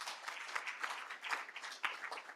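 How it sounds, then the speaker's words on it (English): Audience at a circular packaging conference applauds as speakers come up, a quiet, steady patter of clapping with a few sharper individual claps, heard from a distance without talk. "Feel free to give them a round of applause as they come up."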